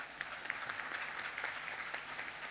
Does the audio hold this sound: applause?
yes